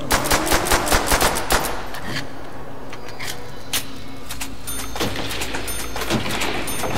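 Rapid M1 Garand rifle fire in a zombies video game, a burst of evenly spaced loud shots followed by continuing gunfire and game noise, with no talking.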